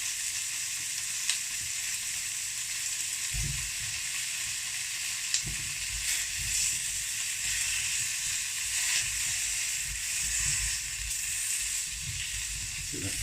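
Pork belly and mushrooms sizzle steadily in a hot pan, a loud continuous hiss broken by occasional stirring scrapes and pops, with no talking.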